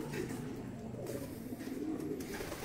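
Racing pigeons coo softly in a loft, a faint, low burbling murmur from several birds at once, with some background noise and no clear talk.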